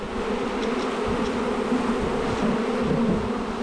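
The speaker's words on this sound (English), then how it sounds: "Oh, you guys are getting rolled by the bees." Honey bees swarming densely around a hive as they ball their queen, a loud, steady, close buzzing drone that fills the whole clip with no voices.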